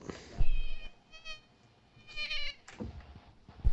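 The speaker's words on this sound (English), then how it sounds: "gonna be a cat" A cat meows in a few short, wavering calls separated by brief pauses, heard fairly close against a quiet background.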